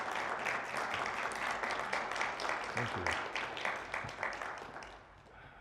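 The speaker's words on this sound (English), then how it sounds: "I don't deserve your applause" Audience applause after a talk at a Champs cannabis trade show in Las Vegas, a steady dense clapping that holds for several seconds and then thins out, while a voice briefly says thanks over it.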